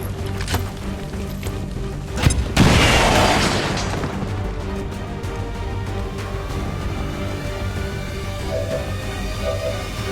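Grenade blast in the XCOM video game: a heavy boom erupts midway, followed by a rumbling, crackling decay under ongoing game music and effects.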